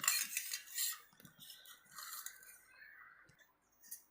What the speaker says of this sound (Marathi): जोपर्यंत ती साखर विरघळत नाही तोपर्यंत गोल गोल फिरवायचे